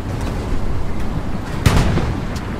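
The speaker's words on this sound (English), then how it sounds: "Light tank was destroyed, by the way." A light tank exploding in Hell Let Loose, a World War II shooter: a sharp, loud blast bursts out amid steady rumbling battle noise, with fainter distant booms before and after, and no talking.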